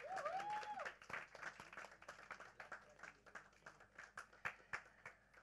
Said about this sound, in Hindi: तो मैं सुरेश काला जी के लिए एक बार जोड़ा तालियां चाहूंगा